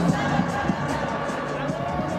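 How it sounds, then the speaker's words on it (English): Crowd at a cricket match cheering a batsman's innings, a steady, loud roar of many voices with a commentator talking over it. "much to the cheer of the crowd."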